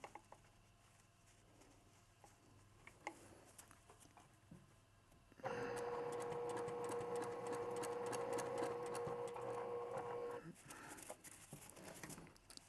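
A sewing machine stitches a bean-filled eye pillow, first as soft fabric handling and a few taps, then a steady, loud whirring run of about five seconds before it stops, with no talking.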